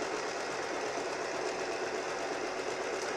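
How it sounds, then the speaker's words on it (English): Sewing machine motor running steadily while winding thread onto a bobbin, a continuous close whirring hum with a faint mechanical rattle and no pauses. "And then I'm going to go ahead and wind this."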